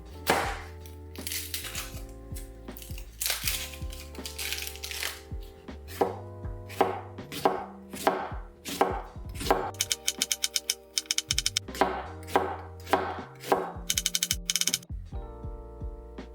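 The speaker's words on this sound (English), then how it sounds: "Next, I have a medium-sized onion, and I'm going to thinly slice it." A knife thinly slices a medium-sized onion on a cutting board, close crisp repeated chops in uneven bursts, some fast runs of rapid strokes, with a faint musical backing underneath and no talking.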